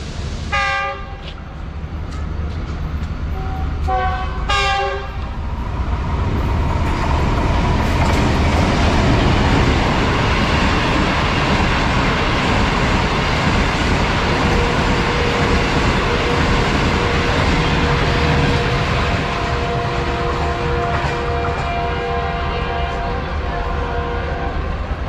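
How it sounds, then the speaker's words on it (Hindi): The Islamabad Express pulls out of Gujranwala railway station, opening with a couple of loud horn blasts before settling into a steady, close rolling rumble of the train gathering speed. "अभी हम छोड़ रहे हैं गुजरांवाला रेलवे स्टेशन।"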